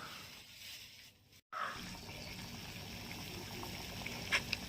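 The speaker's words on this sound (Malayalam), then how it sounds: "അപ്പോഴേക്കും ഇതാ പൊടി വാട്ടാൻ വെച്ച് വെള്ളം തിളച്ച് വന്നിട്ടുണ്ടായിരുന്നു കേട്ടോ" Water boiling in a pot on a home stove, heated for scalding rice flour for noolputtu, giving a steady close bubbling hiss after a brief gap.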